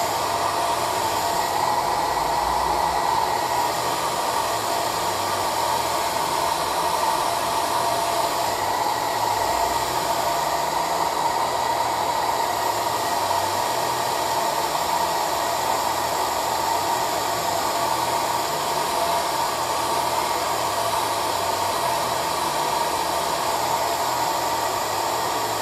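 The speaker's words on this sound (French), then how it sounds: "on va sécher légèrement au pinceau. Au sèche-cheveux, pardon, pas au pinceau." A hair dryer blows continuously while drying craft work, a steady, loud rushing whoosh with an even motor hum, close by and unchanging throughout.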